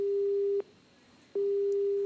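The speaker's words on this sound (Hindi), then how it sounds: "अगर आप फोन कटने की आवाज को सुन पा रहे होंगे" A steady telephone disconnect tone sounds after a police inspector hangs up on a call, a loud pure beep broken by a short gap before it resumes.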